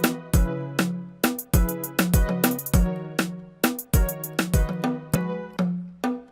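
Drum toms processed with desk drive saturation, struck in a rhythmic pattern of sharp, loud hits that each ring out with a deep, saturated decay.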